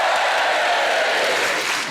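Studio audience at a panel quiz show gives loud, continuous applause and cheers for a guest's introduction, a thick close wash of clapping that barely dips across two seconds.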